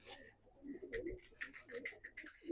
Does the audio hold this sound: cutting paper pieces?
no